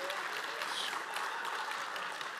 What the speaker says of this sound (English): Can we give Gwen some applause for that move?